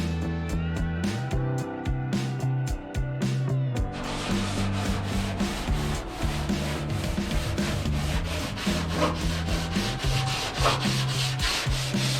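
Sanding paint off car bumpers during body repair work, a steady, loud abrasive rubbing with a harsh hiss that runs without a break from start to finish, with no talk over it.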